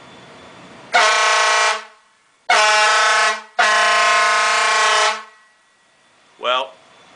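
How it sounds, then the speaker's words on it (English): Lifeliner air horns on a truck give three loud, sustained blasts close up, each lasting about a second, followed by a short, quieter final toot. "we're going to see what the old air horns would have sounded like had I kept them on the ammo"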